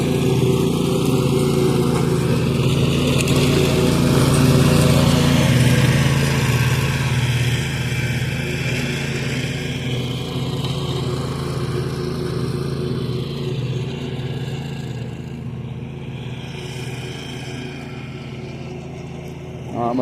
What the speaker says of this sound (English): that lawnmower does purr like a cat when it's running.